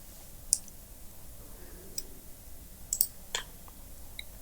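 Mouse clicks in CorelDraw while exporting a file, a few faint, sparse ticks against quiet room noise.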